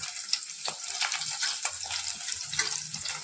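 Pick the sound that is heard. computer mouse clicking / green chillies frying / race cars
green chillies frying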